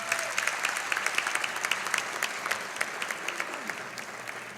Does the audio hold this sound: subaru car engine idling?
no